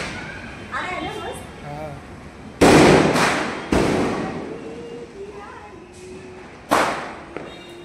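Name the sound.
firecrackers bursting during Kali Puja / Diwali celebration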